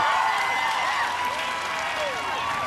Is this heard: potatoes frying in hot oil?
no